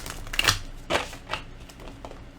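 Tarot card deck being shuffled by hand, giving a few short, crisp riffling bursts spaced roughly half a second apart, close and fairly quiet.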